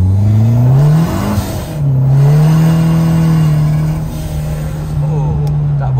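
A tuned 180 hp Perodua Kelisa revs hard with the tyres spinning on the road, a loud close engine drone that rises, dips and climbs again, with some talk in the background.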